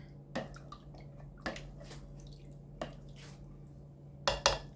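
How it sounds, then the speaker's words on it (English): Pig feet stew with apple cider vinegar being stirred in a pot, with a few sharp utensil scrapes and clinks against the pot spaced a second or so apart over a low steady background hum. "Now, I'm going to stir this up a little bit."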